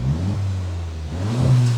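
2024 VW Jetta GLI with a straight-pipe catback, high-flow Y-pipe and twin 5-inch carbon fiber tips, revving loudly up close in a steady deep drone that swells near the end.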